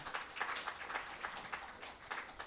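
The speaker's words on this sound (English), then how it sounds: "Let's hear a big round of applause for volunteers helping us out tonight" A concert audience at The Ark applauds the evening's volunteers, with soft, distant clapping rolling on in a steady smattering through the room.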